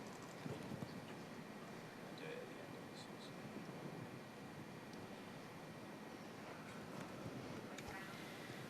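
A show jumper's hooves clip-clop steadily across a Grand Prix arena at an international horse show, faint and distant under the broad hum of a large crowd.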